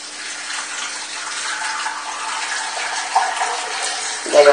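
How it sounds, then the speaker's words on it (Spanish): Water poured steadily from a tap into a pressure cooker while boiling pork face, a continuous hissing splash throughout, with a brief clatter near the end. "Bueno, echaremos agua."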